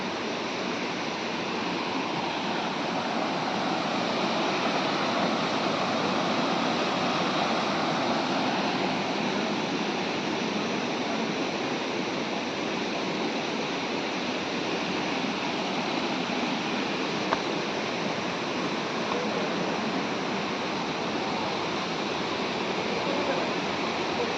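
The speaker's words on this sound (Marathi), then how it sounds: "खूप सुंदर असा धबधबा आहे. पावसातून भरपूरच पाणी असतं" A waterfall in the Konkan region roars steadily and loud, a dense constant rush of falling water with no breaks for the whole stretch.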